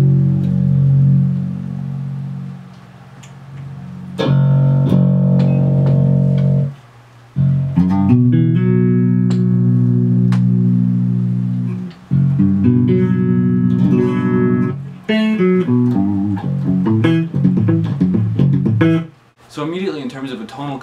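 Clean-tone electric guitar fitted with Lace Aluma Deathbar pickups, played alone and up close as sustained chords and ringing single notes, with short pauses between phrases and a busier melodic run near the end.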